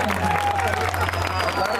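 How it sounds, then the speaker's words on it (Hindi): Audience applause at a live bhajan show on a Varanasi ghat, a steady, fairly loud crowd clapping with a background hum and murmuring voices. "ताली बजाइए"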